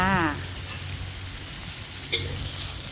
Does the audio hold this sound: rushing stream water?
no